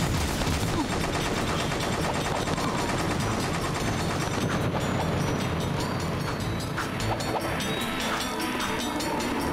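Dense, continuous gunfire from the Jak II video game, loud and sustained with rapid bursts layered over a steady rumbling background, no talk.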